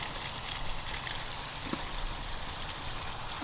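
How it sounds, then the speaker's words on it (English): Water trickling and draining steadily through a hanging coconut fiber planter, a soft continuous wash of flowing liquid with no voices. "So no dirt, just water coming out."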